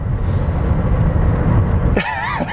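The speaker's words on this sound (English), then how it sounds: "I'm in a 2002 front-wheel drive Hyundai with a 6-cylinder. All right, flooring it here." A 2002 front-wheel-drive Hyundai with a six-cylinder engine pulls hard under full throttle, its steady broadband engine roar loud and close for about two seconds before dropping away, with a voice starting at the end.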